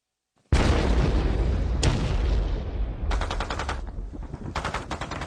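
Sudden loud blast followed by rumbling booms and rapid bursts of gunfire, a sustained chaotic barrage that continues to the end.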